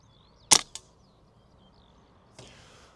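Umarex 850 M2 CO2 air rifle fired outdoors in wind: one sharp, loud crack followed by a quick smaller snap of the pellet hitting, then a faint distant knock, with quiet wind and birds between.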